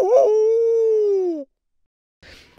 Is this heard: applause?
no